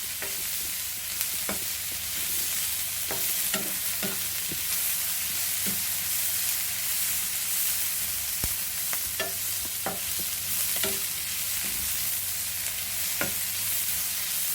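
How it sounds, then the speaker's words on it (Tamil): Crushed garlic sizzles steadily in hot oil in a pan for chicken cutlets, with sharp clicks of a spoon stirring and scraping at irregular intervals, close and continuous. "இதில் நல்லா பச்சை வாசனை போகிற அளவுக்கு நம்ம அதை வந்து வதக்கணும்."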